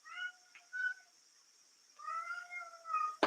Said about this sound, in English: Hey, kitty, get down. She's not supposed to be on the table.